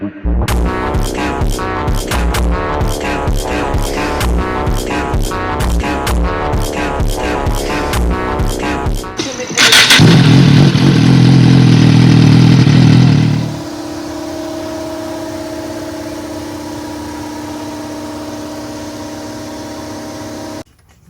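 A motorcycle with a newly installed full system exhaust runs loud and close, a pulsing engine note that surges into a harsh roaring blast before settling into a steadier, quieter drone.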